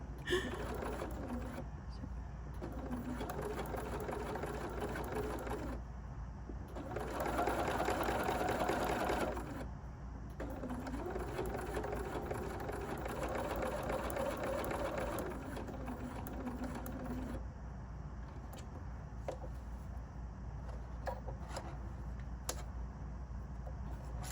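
A sewing machine stitches a quilt in several loud whirring runs separated by brief pauses, with lighter clicks in quieter stretches and a voice talking over parts of it.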